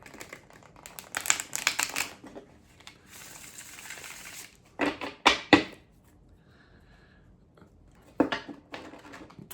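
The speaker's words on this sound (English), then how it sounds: "I just feel like I need to shuffle it a bit more" Tarot cards are shuffled in several quick crisp bursts of riffling and snapping, separated by quiet pauses and soft rustling, close up with no talking.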